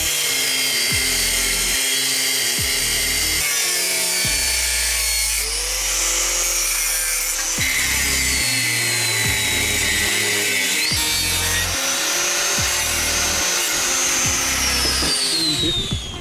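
An angle grinder's abrasive disc cuts through a metal exhaust part, a loud, steady high-pitched shriek that pauses and restarts in several bursts, up close with no talking.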